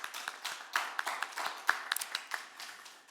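A church congregation claps during a fourth-anniversary service, with scattered, uneven hand claps spread across a few seconds, moderately close and without talk.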